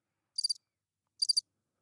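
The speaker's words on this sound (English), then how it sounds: "But you have crickets." Two short bursts of high, trilling cricket chirps, separated by a brief gap, heard alone against silence.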